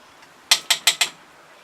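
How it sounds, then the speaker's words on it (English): Spoon stirring a cinnamon and nutmeg apple donut mixture in a bowl, giving four quick bright clinks in an even rhythm, close up in a quiet kitchen. "And stir that up a little bit."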